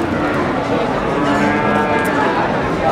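Cattle mooing at the crowded Wirosari cattle market in Grobogan, with limousin cattle among the stock, heard close and loud over steady market bustle and nearby voices.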